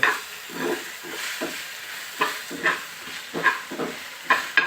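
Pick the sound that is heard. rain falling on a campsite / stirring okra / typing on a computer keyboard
stirring okra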